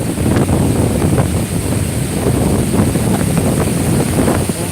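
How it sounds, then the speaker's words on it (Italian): Strong wind roars and buffets the microphone over the steady wash of rough, crashing sea waves during a storm at Salerno, loud and continuous with no voices. "Un forte vento ragazzi, come potete vedere. Il mare è proprio arrabbiato ragazzi."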